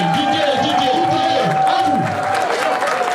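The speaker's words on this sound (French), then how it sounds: "C'est là, applaudissez la Didier" Guests at a customary wedding ceremony clap and cheer in a lively, continuous burst, with a voice speaking over the crowd noise.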